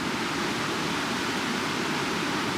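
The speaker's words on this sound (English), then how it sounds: "I apologize if there's wind noise and water noise and you can't hear me as well, because I'm right in front of the stream" Wind and a nearby stream of flowing water make a steady, dense rushing hiss that fills the whole stretch without a break.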